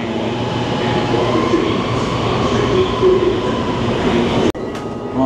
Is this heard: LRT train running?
yes